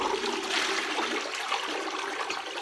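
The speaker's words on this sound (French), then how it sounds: "Je vais maintenant tirer la chasse d'eau." A toilet flushes close by, a loud continuous rush and gurgle of water filling the bowl for a few seconds, with no speech over it.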